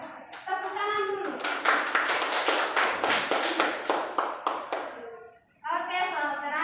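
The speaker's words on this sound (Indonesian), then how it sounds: "Tepuk tangan dulu." A primary classroom of children claps together in a burst of quick, even applause lasting several seconds before it fades. Children's voices chatter briefly once the clapping ends.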